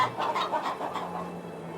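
Chickens cluck in a short, quiet burst of rapid notes in the Farthest Frontier game, set over a low steady hum.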